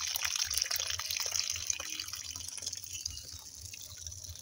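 Water runs steadily from a tap, a close, continuous splashing hiss with faint drips throughout.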